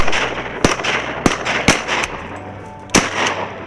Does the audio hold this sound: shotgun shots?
yes